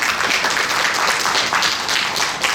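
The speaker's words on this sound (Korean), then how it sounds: "큰 박수 부탁드립니다." Steady audience applause fills a Korean academic safety-culture conference hall after a presenter from Dongguk University is introduced, dense and even throughout without pause.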